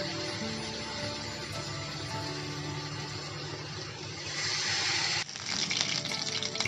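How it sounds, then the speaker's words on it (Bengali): Chicken pieces dipped in cornflour batter fry in hot oil with a steady, dense sizzle and crackle, close and continuous, swelling louder and brighter near the end. "আমি কর্নফ্লাওয়ারের ভিতরে দিয়ে চিকেনগুলো ভেজে নিব"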